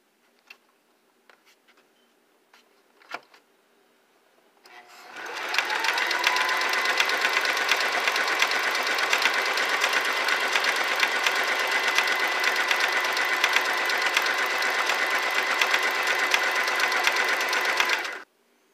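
A Singer Simple 3337 sewing machine starts after a few soft clicks and then runs alone in one long, loud, steady buzzing burst of stitching for about thirteen seconds before stopping abruptly.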